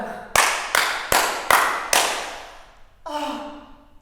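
Five slow, deliberate handclaps ring out one by one on stage during a theatre performance of Catherine Mavrikakis's Clytemnestre at the Galpon. Each clap is sharp and fades before the next, and a voice follows after the last.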